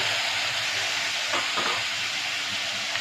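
Moong dal sautéing in hot oil for a dry methi bhaji, a dense continuous sizzle close up with a couple of brief stirring scrapes midway, no talk.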